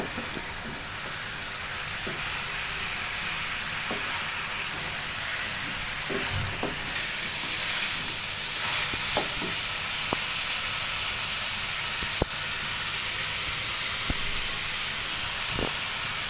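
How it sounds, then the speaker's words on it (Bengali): Salted chicken pieces fry in a pan over a medium-high flame, giving a continuous, even sizzle and hiss with occasional small pops and clicks and no talking. "একটু ভেজে নিচ্ছি"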